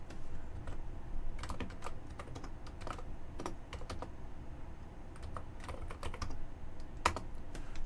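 Commands typed on a computer keyboard, a steady run of quick clicks and key taps over a constant low background hum.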